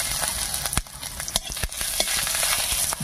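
Grated ginger sizzles steadily in hot oil with a bay leaf and panch phoron, a continuous bright frying hiss broken by the scrape and clatter of a spoon stirring.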